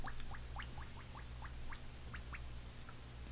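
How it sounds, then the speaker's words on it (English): Small, rapid popping bubbles rise from a badger shaving brush soaking in water, a quick irregular series of faint crisp ticks heard close up in a quiet room. "You can hear those bubbles. It's soaking up water."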